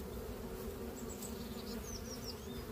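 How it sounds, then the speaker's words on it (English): Honeybees buzz steadily at close range at a hive entrance in early spring, a low droning hum with individual bees whining past now and then. "What we look for at the hive entrance is busy bees"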